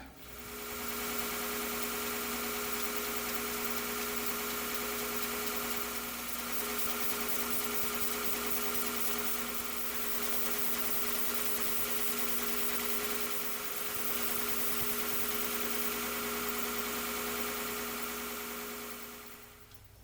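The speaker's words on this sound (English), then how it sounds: "this sanding belt is pretty coarse, so I do have to go easy" A belt sander fitted with a coarse sanding belt runs in a workshop, giving a steady, continuous motor hum with a buzzing whine that holds for the whole stretch, with no talking.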